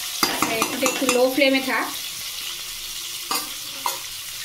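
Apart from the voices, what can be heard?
stirring chicken frying in a pan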